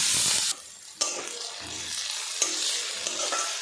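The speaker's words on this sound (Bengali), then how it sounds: "টমেটো দিয়ে বেশ কিছুক্ষণ নাড়াচাড়া করে নিয়েছি।" Chopped tomato is stirred and fried in a pan with onion and ginger-garlic paste. It gives a steady sizzle with scraping spoon strokes and a few sharp clinks, and no voices are heard.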